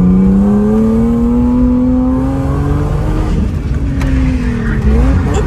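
A car drifting hard, tires squealing in a long sustained skid as the engine drones and shifts pitch, loud and close with no talk over it.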